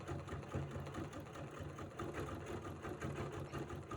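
A sewing machine stitching over couched fiber: a steady, rapid mechanical whir with a rhythmic needle chatter that runs unbroken, close but soft, and no one speaks.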